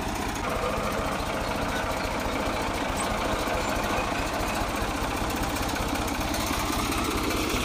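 A tractor engine idles close by, a loud, steady, rapid chugging thrum that continues without a break.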